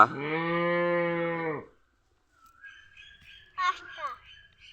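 Cattle on a small farm give a long, loud, harmonic moo lasting over a second, then after a pause a few fainter calls and a short burst of voices or bird-like chatter.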